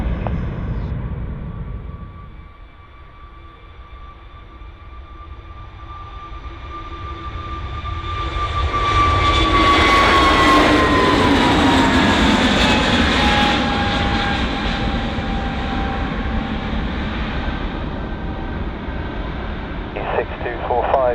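A jet airliner takes off from runway 27 at Bristol Airport, its engines swelling into a loud, sustained roar with whining tones that peaks midway and holds steady.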